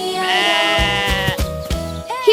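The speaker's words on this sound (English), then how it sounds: "The sheep says baa." A sheep bleating in a sustained, wavering tone, loud and close, set over a bouncy children's farm-song backing with a thumping rhythmic bass.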